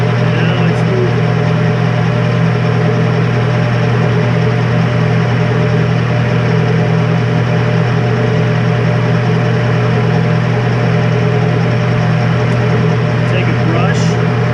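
A lathe running in gear while facing a screwdriver handle, giving a steady loud mechanical hum with a low drone throughout, constant and close, with someone talking over it.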